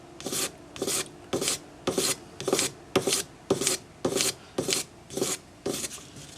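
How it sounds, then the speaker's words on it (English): A metal ring is rubbed with 400 grade abrasive paper on a sanding stick in about twelve even back-and-forth rasping strokes, close and fairly quiet, with no voices. "we're just going to blend that using our 400 grade paper"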